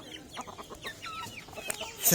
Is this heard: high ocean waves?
no